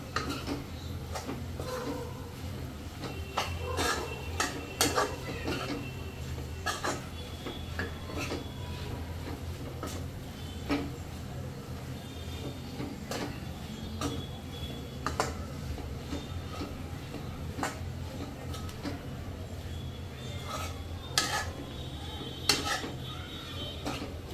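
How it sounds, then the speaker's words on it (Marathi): Chillies are stirred in a pan, with repeated metallic scrapes and clinks of a spoon against the pan over a low steady frying hiss, heard close. "आता मी मिरची टाकून घेते. मस्त की मिक्स करून घ्यायचा."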